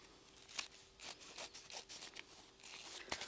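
Scissors snip through thin waterproof canvas being trimmed for a backpack, giving a quiet, close series of short crisp cuts and rustles spaced irregularly over a few seconds.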